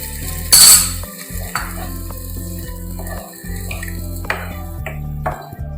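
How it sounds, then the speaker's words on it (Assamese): Ingredients fry in a pan over a medium flame, with a soft sizzle, repeated stirring scrapes and utensil clinks against the pan, and no talking. "মিডিয়াম ফ্লেমত এইখিনি অকণমান ভাজি লওঁ"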